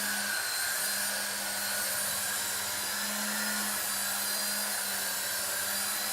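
A Heli-Max Novus CX four-channel RC helicopter flies a smooth pirouette indoors, its small rotors making a steady, close whine and hiss with a faint tonal hum throughout.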